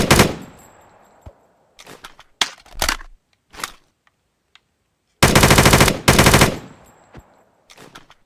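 Rapid bursts of automatic gunfire from a fast-firing weapon in a Minecraft Bedrock mod, short taps early on followed by a loud sustained volley, separated by brief pauses.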